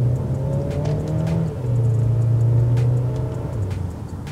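A Mercedes-Benz GLA 200 engine revving as the car accelerates in manual shift mode, heard from inside as a loud, steady drone that climbs in pitch, drops briefly at a gear change, then rises again.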